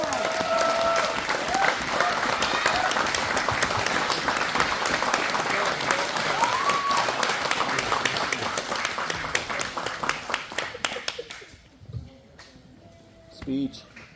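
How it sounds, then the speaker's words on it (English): A banquet audience at a speedway awards night applauds loudly with sustained clapping, cheers and whoops for about eleven seconds before it tapers off, followed by a brief burst of laughter and talk. "Can we give him a round of applause?"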